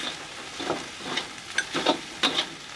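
Light soy sauce hisses onto fried rice in a wok while making Indonesian nasi goreng, giving a steady sizzle with several short scraping stirs spaced across the clip.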